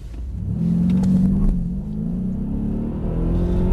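A Mercedes E63 AMG accelerates hard on a race track, its engine rumbling loud and steady from inside the car as it builds speed with a rising drone, no talking over it.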